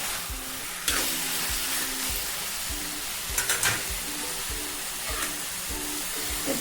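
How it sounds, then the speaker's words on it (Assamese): Sun-dried taro leaves with salt fry in a pan, a steady soft sizzle and crackle with regular stirring scrapes, fairly close and alone without talk. "অকণমান মই ভাজি ল'ম এতিয়া"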